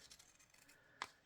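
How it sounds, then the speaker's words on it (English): Scissors snip paper quietly a few times, then one sharper, brighter cut rings out close by. "So I'll just get my scissors"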